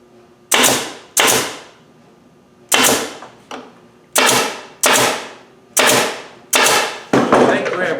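A pneumatic stapler drives galvanized staples into a wooden dishwasher panel: seven sharp, loud close-up bangs, each trailing off in a quick decay, fired at a brisk uneven pace with short gaps between.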